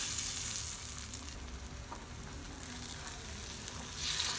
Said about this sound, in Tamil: இந்த தக்காளி நல்லா மேஷ் ஆகிற அளவுக்கு நல்லா ஃப்ரை பண்ணி விடுங்க